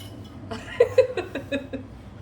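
A hen clucks and calls in a short run of about five rising calls, close by, over a low steady hum.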